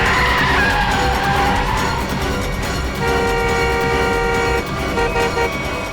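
A car skids with failed brakes, its tires screeching loudly and continuously as sustained squeal tones rise and waver, with horn-like toots mixed in and no talking.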